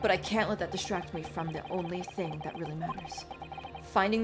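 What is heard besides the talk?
No everyday noises stand out.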